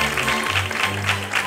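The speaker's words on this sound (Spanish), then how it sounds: "Un aplauso para el maestro." A studio audience on a Spanish late-night television show claps in a brief, dense burst of applause.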